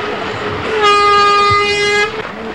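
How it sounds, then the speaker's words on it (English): A loud, sustained air horn signalling a windsurf race semifinal start at the 1990 Maui Grand Prix blares for just over a second, steady and harmonic-rich, over a low background murmur. "the sound of the horn, we're off into our first semifinal"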